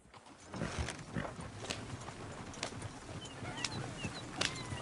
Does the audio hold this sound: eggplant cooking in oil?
no